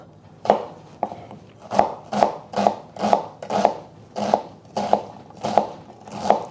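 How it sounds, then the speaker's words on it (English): A knife chops through an onion on a cutting board in a steady series of about a dozen crisp, close thuds at a fairly regular pace, with no voices. "I like to keep the butt on the bottom of the onion so that when I am chopping, it just makes it easier"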